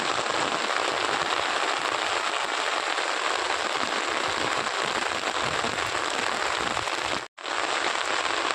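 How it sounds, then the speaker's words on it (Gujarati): Heavy rain pours steadily in Banaskantha district, a dense, loud hiss of drops on surfaces that continues without pause except for a brief dropout near the end. "લગાતાર વરસાદ ચાલુ થયો છે"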